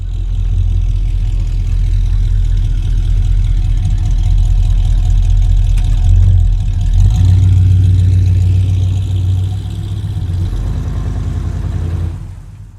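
Race car engines idle and rumble together before a heat race, a loud, steady low drone with slight revving swells throughout, fading sharply at the end.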